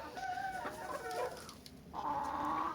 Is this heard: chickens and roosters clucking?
yes